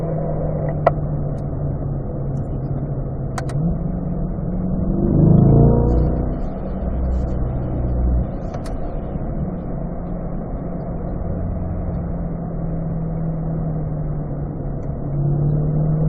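A car on a performance driving school racetrack accelerates back up a hill through the curbs, its engine drone steady and close, swelling briefly to a louder rev midway before settling into a sustained hum.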